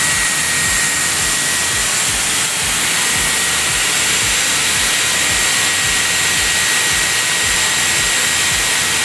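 A Dyson Airwrap hair styler runs on its heat setting, giving a steady, loud airflow whoosh and hiss that holds even and unbroken throughout.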